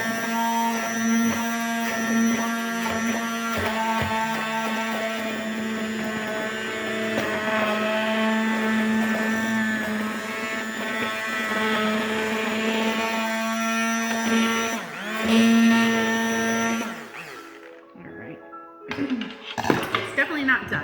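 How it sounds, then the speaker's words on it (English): Immersion blender whirring steadily through tomato soup in a pot, a loud sustained motor whine with shifting pitch that cuts off near the end, with a person talking over it. "Don't lift the blender out of it while you have it turned on,"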